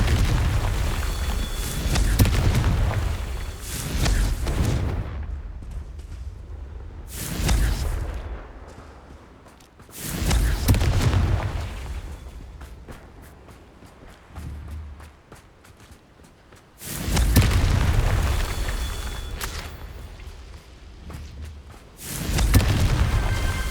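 Confringo fire spell blasts in the video game Hogwarts Legacy: four heavy, booming explosions spaced several seconds apart, each a loud deep burst with a rumbling decay, plus a softer crackling impact between them, with no talking.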